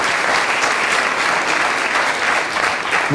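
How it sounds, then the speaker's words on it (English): Sustained, dense applause from an audience at a public lecture by Robert Reich in Kansas City, loud and steady throughout with no break. "yes, you can applaud on that. I think they deserve applause."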